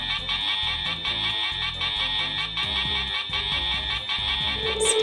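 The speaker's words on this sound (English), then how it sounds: "the emergency alarm is sounding" A continuous high electronic emergency alarm tone in a Fireman Sam cartoon rings steadily, with rhythmic low musical beats pulsing underneath throughout.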